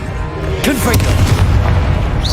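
A Confringo blasting-spell explosion in Hogwarts Legacy: a loud, close burst with a whooshing sweep, then a deep rumbling boom that keeps going under a fizzing tail.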